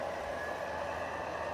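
An MTH Canadian Pacific model train runs with a steady, even mechanical hum and a whirring motor that stay constant and close, with no talk.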